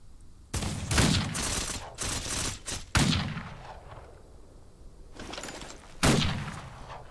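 Scoped rifle fire in the Western game Outlaws of the Old West: several sharp, loud single shots a second or two apart, each with a booming decaying tail, no talking.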